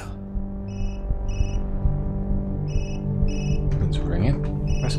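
Telephone ringing in the horror video game Observer, heard as short repeated electronic beeps in pairs over a low droning ambient hum, with some clatter of movement near the end.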